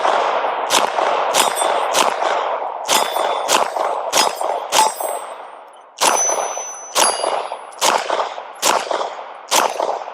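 A Ruger RXM pistol fires frangible ammunition at steel targets outdoors, giving about a dozen sharp, loud shots in an uneven rhythm, several followed by ringing metallic pings from the hit targets.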